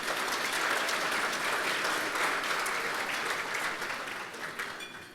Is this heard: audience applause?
yes